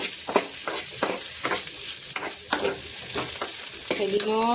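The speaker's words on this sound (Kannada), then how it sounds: "ಕಾಳು ನೋಡಿ ಸುಮ್ಮನೆ ಹಂಗೆ ಈರುಳ್ಳಿಗೆ ಒಗ್ಗರಣೆ ಹಾಕ್ತೀನಿ ಅಷ್ಟೇ" Onions sizzling and frying in hot oil during tempering in a pan, a steady loud crackle with repeated stirring scrapes throughout; a brief high whistle-like tone enters at the end.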